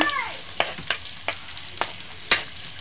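Ginger sautéing with spring onion in a pan, producing a soft steady sizzle broken by several sharp stirring scrapes at irregular intervals, close and fairly quiet.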